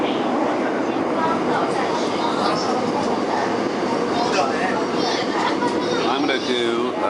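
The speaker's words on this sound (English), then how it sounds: "on another sparkling clean Seoul subway, and I'm just pulling into bus terminal station" Seoul subway train pulling into a bus terminal station, a continuous loud rumble and rattle of the carriage with squealing tones and a mechanical hum.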